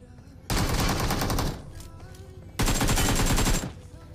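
Two long bursts of rapid automatic gunfire in a mobile battle royale shooter, each lasting about a second, loud and close, separated by a short lull.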